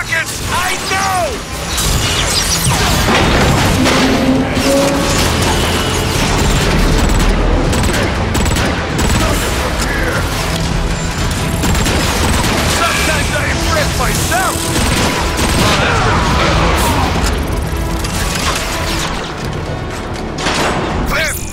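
Rocket explosions and heavy mechanical battle noise from Transformers: Fall of Cybertron, a loud, dense wall of booms and crashes that keeps going throughout. Voices shout over the chaos.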